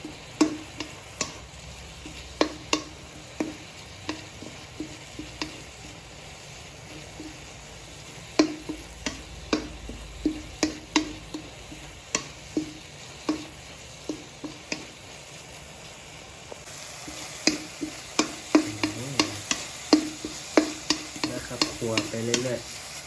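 Food is stir-fried in a pan, a home-cooked Isan dish, with a spatula scraping and clacking in quick irregular strokes over a continuous sizzle that grows busier and louder near the end, with no talking.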